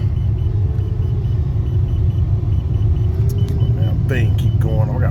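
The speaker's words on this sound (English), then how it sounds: "Yeah, they getting ready to do a burnout. They revving." Cars rumble with deep, steady engine noise near a street cruise on Fort Road as drivers rev up before a burnout, loud and constant, with a few faint higher whines and a voice speaking over it.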